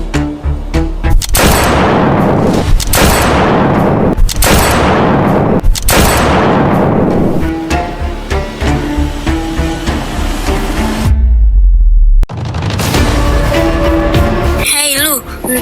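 Gunshots go off in a Si Pitung school drama as loud, sharp bangs in a rapid irregular volley. The volley breaks off abruptly, goes silent for a moment, then noise and voices return.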